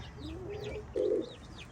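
Pigeons in a chicken coop give a soft, low coo that rises into a louder, brief burst midway, with faint high chirps from other birds in the background.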